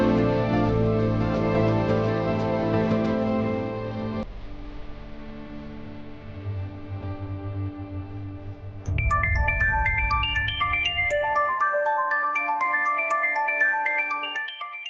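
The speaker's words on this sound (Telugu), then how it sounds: "ఇదేంటి శ్యామ ఫోన్ చేస్తుంది?" A phone rings with an incoming call in a Telugu TV drama scene, a continuous melodic ringtone that runs alone with no talk, its tune changing partway through.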